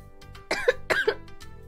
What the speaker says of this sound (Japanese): 咳がちょっと出ます